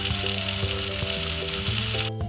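Ginger garlic paste, turmeric and chili powder frying in a hot pan for an egg curry, giving a steady, continuous sizzle with tonal background music running underneath throughout.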